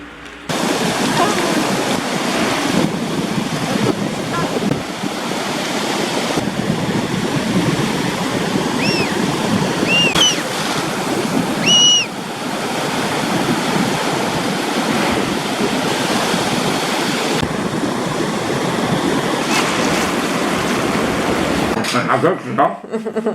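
Steady broadband rush of sea waves on the coast at Mehdia, Morocco, loud and continuous, with a few faint bird-like calls around the middle and a brief drop at the end.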